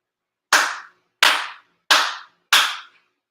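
Four crisp, evenly spaced ritual hand claps ring out alone at a Shinto shrine's monthly ceremony, each one loud and close with a short decay into silence.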